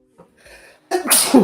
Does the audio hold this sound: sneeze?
yes